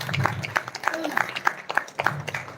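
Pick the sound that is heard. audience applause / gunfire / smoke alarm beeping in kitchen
audience applause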